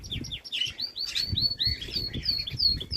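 Zebra finches and Bengal finches chirp in an aviary cage, a dense run of quick, bright tweets and short whistles overlapping continuously at close range, with a low rustle beneath and no talk.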